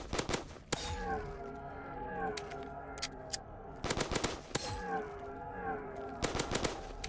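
Rapid gunfire in Call of Duty Zombies, with sharp bursts of shots cutting through a busy game mix of tonal music or effects.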